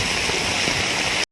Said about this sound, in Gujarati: વરસાદ અત્યારે ફૂલ આવે છે અને સતત આવી રીતે ચાલુ જ છે